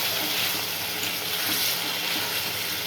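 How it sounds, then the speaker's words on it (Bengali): Water poured into a pan of simmering fish curry, a steady broadband splash and gush running the whole moment, fairly loud and close with no talk over it. "এই যে জল দিয়ে দিচ্ছি, এই যে সামান্য জল দিলাম"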